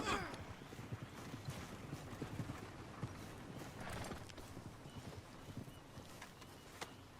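A horse's hooves in the game Red Dead Redemption 2 clip-clop steadily at a trot, with occasional snorting and a faint whinny, over a broad rumbling background.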